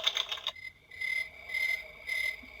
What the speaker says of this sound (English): That's crickets.